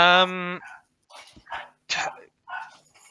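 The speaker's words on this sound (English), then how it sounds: "I apologize for my dog." A dog gives a short whining yelp, then a few scattered barks and yips, close by during an indoor tabletop role-playing game session, with people talking over and between the sounds.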